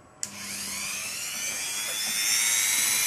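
A small rotary grinding tip spins up on NES console contacts, a sharp whining rise starting abruptly and holding a high, steady dental-drill-like whine, close and fairly loud.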